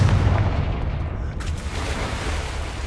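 Confringo fire-blast spell cast in a Harry Potter video game, heard as a loud, dense booming blast with low rumble that persists steadily through the moment, close and unbroken, with no voices over it.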